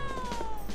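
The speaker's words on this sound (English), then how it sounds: "Cat." A cat meows in the Trials of Mana remake game, one short, clear, falling meow heard on its own over steady game background sound.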